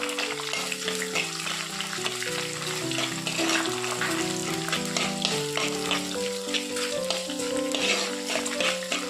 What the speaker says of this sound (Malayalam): ഇഞ്ചി ഒന്ന് മൂപ്പിച്ചെടുത്തു കഴിഞ്ഞാൽ പിന്നെ നമുക്ക് ചതച്ച് വെച്ചിരിക്കുന്ന വെളുത്തുള്ളിയും കൂടി ഇട്ട് കൊടുക്കാം